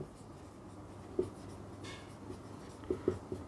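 Chalk or marker writing on a board during a complex-analysis lecture on residues, heard as faint scratches and a few short taps spread across a quiet room with low background hum.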